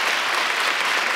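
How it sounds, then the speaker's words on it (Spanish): Audience applause on a late-night talk show, a steady wash of clapping from many hands, moderately loud and unbroken throughout. "es un aplauso para eso"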